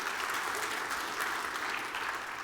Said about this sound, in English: you can clap for that story